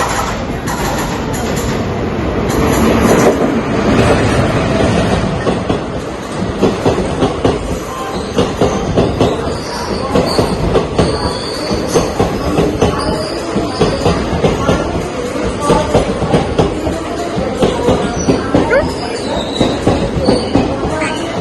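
A train running on rails with passengers aboard, heard from inside a carriage as a steady, loud broadband rumble with rhythmic wheel clatter and some squeal, continuous throughout; faint voices come and go beneath it.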